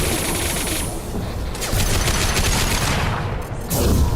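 Heavy gunfire in the Mass Effect game on PC, a dense run of loud, sharp shots and booming impacts filling the whole stretch, close and continuous.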